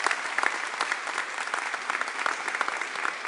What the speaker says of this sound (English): She deserves a round of applause, yeah.